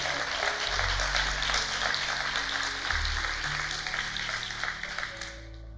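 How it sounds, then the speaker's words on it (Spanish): Church congregation applauding during a sermon, a sustained wash of dense clapping that stays loud throughout with a low organ or keyboard tone underneath, tapering slightly at the end. "le damos un fuerte aplauso al Señor"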